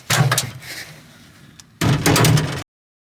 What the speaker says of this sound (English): Door doesn't unlatch.